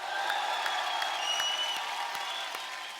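Studio audience applause for the singer and the accompanying musicians on a comedy talk show, a steady wash of clapping with light cheering, moderately distant and even throughout.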